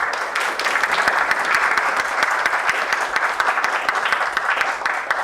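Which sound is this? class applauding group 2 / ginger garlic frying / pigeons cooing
class applauding group 2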